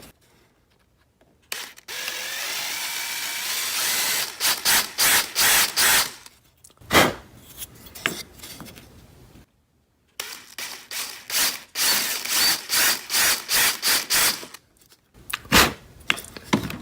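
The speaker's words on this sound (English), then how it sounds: "I'm gonna use a 1/4 inch drill bit." A 1/4 inch bit drilling a hole into a wooden 2x4 blank: bursts of whirring, grinding drill noise start and stop repeatedly, with a pause of silence midway and short buzzing pulses near the end, close and fairly loud.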